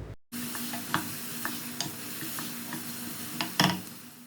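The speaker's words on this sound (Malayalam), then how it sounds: "ഇഞ്ചിൻ്റെയും വെളുത്തുള്ളിൻ്റെയൊക്കെ റോ ടേസ്റ്റ് ഒന്ന് മാറി വരുന്നവരെ ഒന്ന് വഴറ്റിയെടുക്കുക" Ginger, garlic and green chili sauté in a pan for a chicken samosa filling, giving a soft, steady sizzle with a few sharp spatula taps against the pan and no voices.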